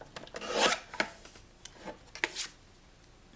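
Scissors cut along the edge of a small paper mini folder to trim it to size, a few short rasping snips clustered together, close and fairly quiet.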